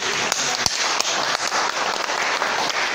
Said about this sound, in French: Je vous demanderai de l'applaudir bien fort, s'il vous plaît.